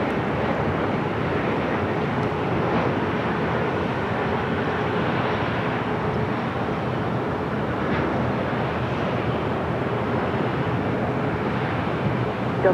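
A Delta airliner takes off from runway 24 left at Los Angeles International Airport, a steady broad jet roar heard from a distance with wind-buffeted rumble, constant in level throughout and no voices.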